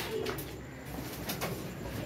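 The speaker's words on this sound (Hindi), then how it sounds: "ये हमारे कबूतर हैं जी, चेक कर रहे हैं माशाल्लाह" Pigeons coo softly in a short, low, rolling call near the microphone, with faint background noise.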